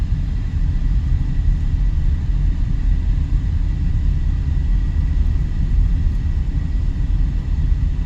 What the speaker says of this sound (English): You can see there's a plane coming in right there now.